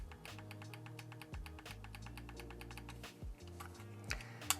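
Rapid, crisp plastic clicks from the trigger of a GuliKit KK3 Max Hall-sensor controller tick out in an even, close run with a few short pauses.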